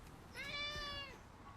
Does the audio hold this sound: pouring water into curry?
no